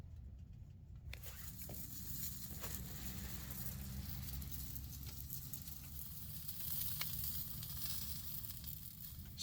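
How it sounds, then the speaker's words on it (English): Bratwurst sizzles steadily in a hot frying pan, a continuous crackling hiss with occasional pops, close and fairly quiet, no voices. "Break out a frying pan, show you some sounds of the sizzle."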